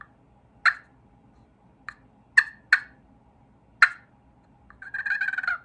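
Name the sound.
turkey call imitating a cluck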